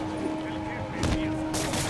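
Bursts of gunfire from Marvel's Spider-Man Remastered on PC. Two loud, broad blasts land about half a second apart, under a steady game soundscape with voices talking.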